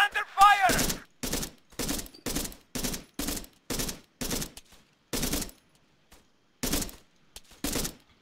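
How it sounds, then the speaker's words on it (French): Gunfire in Arma 3 rips out in repeated bursts of automatic fire, each roughly a third of a second long and separated by short silences, loud and close with an irregular rhythm. "Ouais, ça tire derrière le rocher, là-bas."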